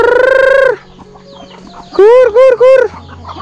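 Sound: chickens clucking and crowing

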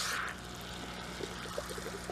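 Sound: water flowing from hydroponic system lines with pump running

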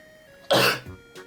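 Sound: sneeze

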